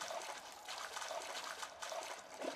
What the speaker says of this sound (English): We're swimming in the water.